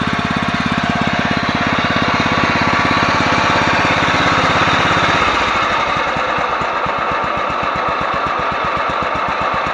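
A Yardman 15hp riding mower engine idles close by, a loud steady rapid chugging that drops to a lower, slower thump partway through, with no talking.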